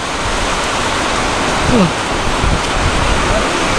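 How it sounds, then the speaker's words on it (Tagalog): Steady, loud rain falling continuously, a dense hiss with no break, close and enveloping. "Gaya niyan, tanghali pa lang umuulan na, alauna."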